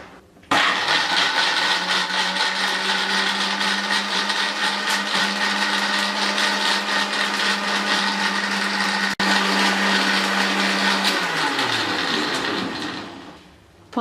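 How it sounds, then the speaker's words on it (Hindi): An electric blender whirs loudly as it blends falsa berries with a glass of water for juice, starting abruptly, holding a steady high-pitched drone for about ten seconds, then winding down as the motor slows and stops. "अब हम इसको अच्छे से ब्लेंड कर लेंगे।"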